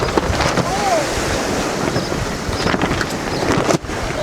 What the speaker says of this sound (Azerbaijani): Dağıtdı, tökdü külək.